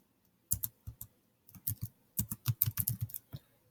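Bursts of key presses on a computer keyboard, close and crisp, coming in uneven quick runs with short pauses between them in a quiet room.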